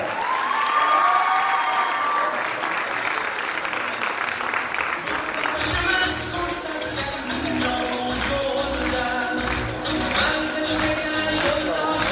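An audience claps at a formal national award ceremony, steady applause that swells into a dense, loud ovation in a large hall.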